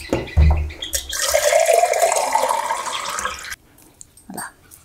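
Water pours steadily for about three seconds over cut indigo stalks after their leaves are stripped, a close splashing rush that stops abruptly, followed by a few faint drips and handling noises.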